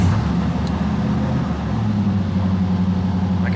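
A 1000 hp turbocharged Pontiac Trans Am rumbles as it drives, a loud, steady low engine drone with a slight shift in pitch midway, heard from inside the car.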